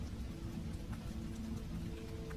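Steady rain storm with a dense, continuous wash of noise and a low rumbling undertone, no voices.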